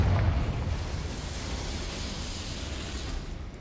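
A Confringo blasting spell explodes in Hogwarts Legacy, a broad rumbling burst that decays into a steady roar over a few seconds, heard alone without talk.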